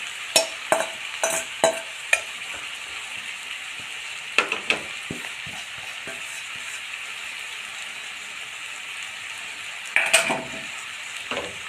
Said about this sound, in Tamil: நெக்ஸ்ட்டு இந்த அவல், இதில் சேர்த்துடலாம்.